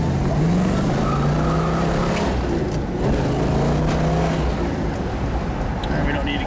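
A rare 1971 Hemi Plymouth Cuda convertible drives along city streets past a construction site, its engine rumbling loudly and revving under the open top, with people talking over it throughout.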